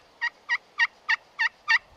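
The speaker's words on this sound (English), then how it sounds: "You can really produce nice realistic clucks and purrs" Six soft, evenly spaced turkey clucks from a slate friction call, each a short bright chirp, close and clear against near silence.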